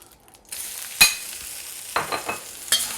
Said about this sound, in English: The next thing you do is put some more oil in your wok. And then you put the noodles in.